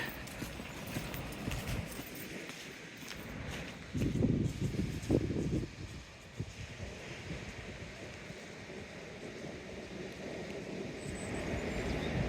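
A train passes outdoors along the Teignmouth seawall in rain: a rumbling, clattering rush that swells and fades against steady wind noise.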